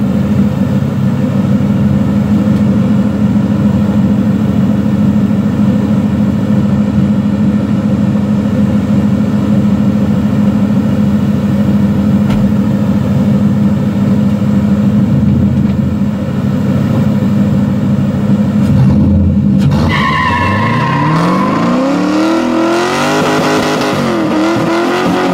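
A Mazda FD RX-7 engine drones steadily at high revs for a long stretch, then surges and revs up and down sharply near the end during a burnout, loud and close.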